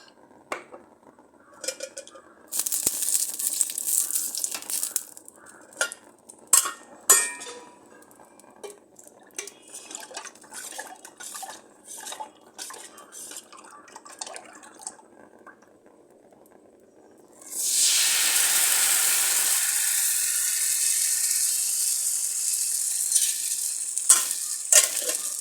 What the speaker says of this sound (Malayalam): ഇനി നമുക്ക് സ്പീഡൊന്ന് കൂട്ടിയിട്ട് എണ്ണ ഒഴിച്ചു കൊടുക്കാം.